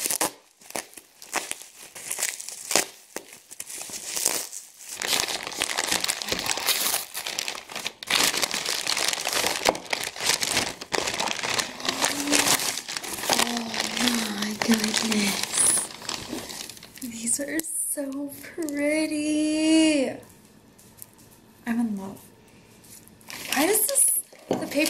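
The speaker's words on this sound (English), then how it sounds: "This is so much wrapping paper, or bubble wrap, whatever it's called." Wrapping paper or bubble wrap from a package of small Rae Dunn homeware items being crumpled and crinkled close up in irregular bursts, with a person talking briefly in the middle.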